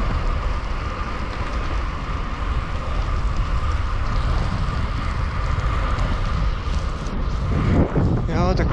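Steady rain in southern Bohemia during a long ride around the Czech Republic, a dense continuous hiss over low rumbling wind and road noise, loud throughout, with a brief voice near the end.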